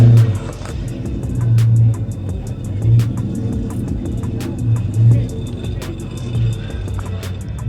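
A 1964 Plymouth Savoy wagon, a classic Mopar and former U.S. forestry vehicle with a 3-inch exhaust, rumbles at idle with repeated swelling revs throughout, loud and near, with people talking over it.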